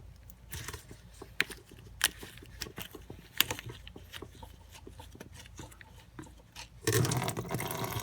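Fuel drips irregularly from a Honda GX160 generator carburetor in rough, varnished condition, a dozen or so distinct drops tapping close by, followed by a louder rush of noise at the end.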